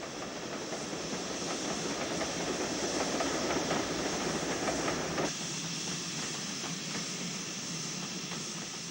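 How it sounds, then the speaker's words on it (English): Steam train on the Somerset & Dorset line hauled by BR Class 5 locomotive 73003, a steady broad rumble and hiss of carriages rolling past with faint clickety-clack, loud and continuous, easing slightly in the last few seconds. "the train continues its journey to the Midlands, hauled by the Class 5."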